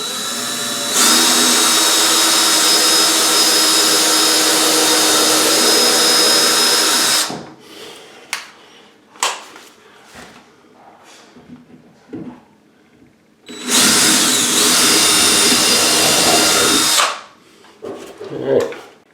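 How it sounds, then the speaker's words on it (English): A power drill bores screw holes into a wooden stud for mounting an electrical box, two long loud whirring bursts separated by a quieter stretch of handling clicks and knocks. "so I'll drill it here"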